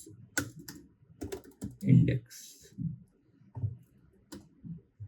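Keys clatter on a computer keyboard as code is typed, short bursts of clicks at close range mixed in with someone talking over them.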